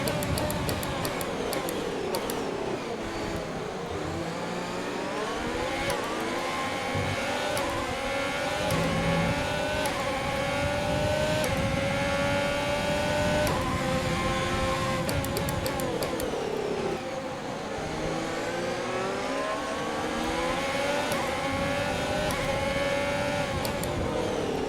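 Formula 1 race car engine in the F1 2020 racing game, a loud continuous high-revving whine with rising and falling pitch sweeps through gear shifts and acceleration, sustained throughout with no voices.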